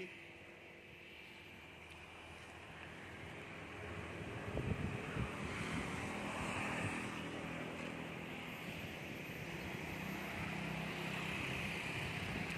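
Steady wind rushing past a homemade wind turbine built with a starter dynamo generator, a broad continuous roar that swells slightly midway and stays constant, with no voices.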